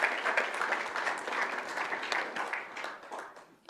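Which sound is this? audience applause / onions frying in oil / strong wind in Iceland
audience applause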